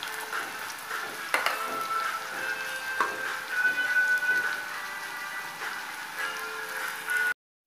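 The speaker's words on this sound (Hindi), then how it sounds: "इसको आलू को थोड़ा कम आंच पे तलिए, नहीं तो गलेगा नहीं अच्छे से" Potatoes frying in oil over low heat for masala baingan, a continuous close sizzle and bubbling with occasional light clinks and scrapes of a utensil against the pan, with no talking.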